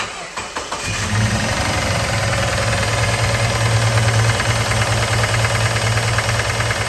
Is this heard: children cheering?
no